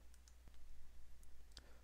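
A computer mouse gives a few faint, sharp clicks, spaced irregularly, in an otherwise quiet room.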